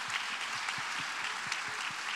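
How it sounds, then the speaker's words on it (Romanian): An audience at a traditional Romanian carol concert and album launch applauds steadily, a dense continuous clapping that fills the whole clip. "aplauze vă rog"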